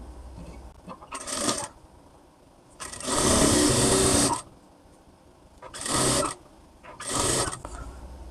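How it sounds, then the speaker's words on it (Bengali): Sewing machine stitching blouse fabric, running in four short bursts of whirring, the longest about a second and a half, with quiet pauses between, close and fairly loud with no talking. "এখানে আপনার দুই সুত পরিমাণে সেলাই প্লাস ধরে এটা সেলাই দিতে হবে"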